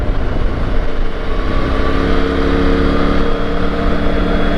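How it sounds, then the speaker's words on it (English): A 2021 Triumph Tiger 900 GT Low motorcycle engine drones steadily and loudly up close, a deep, continuous throaty rumble with no break and no voices. "I do like the sound it makes"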